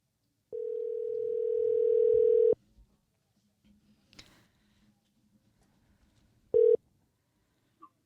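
A telephone dial tone sounds steadily for about two seconds while a call is placed, followed by soft handling noise and then a short second tone burst, with no voices.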